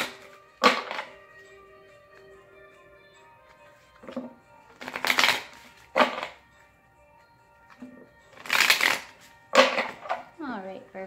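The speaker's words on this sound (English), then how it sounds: "Let me shuffle one more time for you here." Tarot cards shuffled by hand in several short, crisp riffling bursts spread across the span, over a soft sustained musical background.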